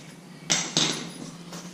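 Two sharp metallic hammer strikes land close together, followed by a softer third tap, each ringing briefly, as a hammer and bit knock out the pad pins of a 6-piston Brembo brake caliper.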